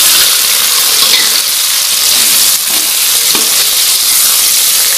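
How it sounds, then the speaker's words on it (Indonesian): Shallots, garlic and red chili fry in oil with a loud, dense, steady sizzle and hiss that runs throughout, close up and with no voices. "Kita goreng bumbunya, bawang merah, bawang putih, dan cabai merahnya."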